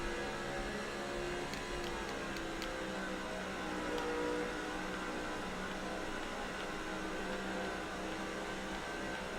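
Stock cars in the NASCAR 07 video game roll onto pit road at Las Vegas, a low, steady engine drone heard faintly and continuously.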